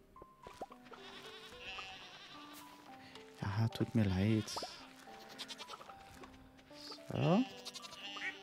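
Sheep in Stardew Valley bleat twice in wavering bursts over layered game music, with someone talking in German in between.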